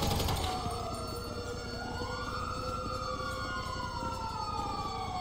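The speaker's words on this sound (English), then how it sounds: "Oh, it's the ambulance!" Ambulance siren in the GTA 5 video game, a loud wailing tone sweeping up and down, sounding steadily throughout under a busy background of game noise.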